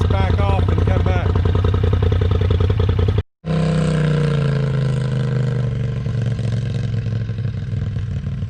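Polaris RZR side-by-side UTV held at wide-open throttle, its engine winding up hard, cutting out for a moment, then surging again in a loud sustained roar heard up close.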